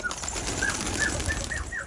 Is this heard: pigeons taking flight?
yes